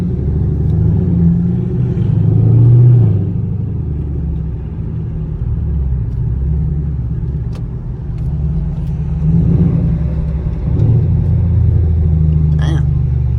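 A deep, loud engine from a catless Camaro SS and a Scat Pack rumbles continuously, swelling and easing at times, with a steady low drone filling the whole stretch.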